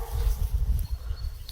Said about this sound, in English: Her dog reacted immediately, sensing the tension and prompting Tasha to start recording